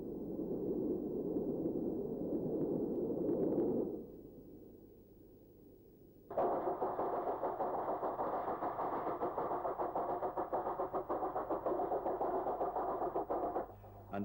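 An LNER A1 steam locomotive heading north on a British main line, heard as a steady loud rumble that dips briefly, then returns as a broad continuous roar with no talking.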